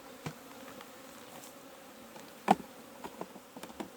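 Bees buzz around a beehive during hive care outdoors, a faint steady hum with a few sharper close passes and light clicks, no talk.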